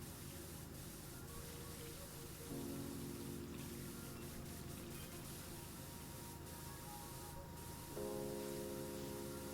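A pressure washer in the PowerWash Simulator video game sprays in a steady, loud hiss that runs throughout, briefly swelling with a droning tonal layer midway and again near the end.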